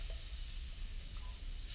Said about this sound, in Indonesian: Panaskan wajan di atas kompor, kemudian masukkan bumbu halus.